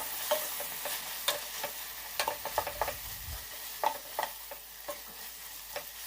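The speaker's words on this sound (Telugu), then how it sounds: "ఇలా కలుపుకుంటే మెత్తగా అయిపోతుంది అన్నమాట టమాటా" A spoon works chopped tomato into a broad bean curry in a pan, giving a string of sharp scrapes and clacks over a soft, steady sizzle, with a brief low thump midway.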